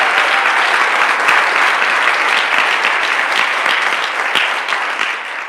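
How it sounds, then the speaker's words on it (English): Sustained audience applause fills a press conference room, dense and steady clapping from many hands at close range, holding strong before tapering slightly at the end, with no talking over it. "That deserves another round of applause."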